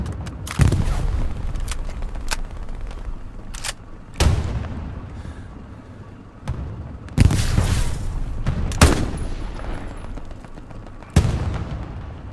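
Soviet anti-tank rifle fire in the video game Hell Let Loose: about six heavy, booming shots spaced a few seconds apart, each with a deep low thump and a trailing rumble over constant battlefield ambience.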